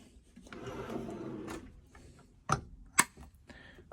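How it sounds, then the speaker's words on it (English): Full-extension drawer in a black van cabinet with dovetail joinery being slid along its runners, a soft rolling rumble followed by two sharp, close knocks as it closes, no voices. "And another full extension drawer as well."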